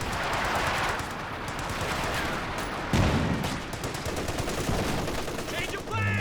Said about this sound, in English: And MG in the building. Working nicely.